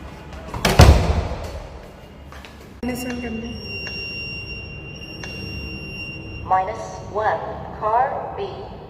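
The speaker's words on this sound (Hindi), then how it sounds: "मैं घर से निकल रही हूँ और दरवाज़ा बंद करना पड़ेगा पहले" A house door is shut as a woman leaves home, giving one loud, close thud, followed by quieter household sounds and a voice.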